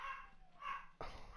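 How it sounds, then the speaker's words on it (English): A dog barks faintly indoors, two soft muffled woofs a moment apart, followed by a sharper sound near the end, all quiet and low in level. "What are you barking at"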